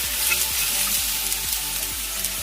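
Ginger and garlic sauté in hot oil for a fish curry, a steady close sizzle with light rhythmic scraping from stirring in the pan.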